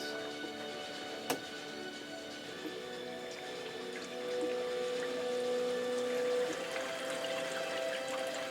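Water churns and trickles steadily through a freshly filled custom PC watercooling loop topped up with distilled water, the pump humming under a constant bubbly gurgle that swells slightly halfway through, with one sharp click early on.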